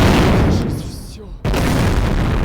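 In a tank video game, heavy artillery fire booms loudly and close, with a dense roaring blast, a brief lull, then another sustained burst, while voices talk over it.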